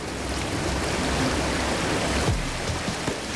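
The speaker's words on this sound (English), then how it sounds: "The creek is completely flooded" A flooded garden creek rushes with rapid water after heavy rain, a steady, dense, broadband roar that stays constant and close throughout, with no voices.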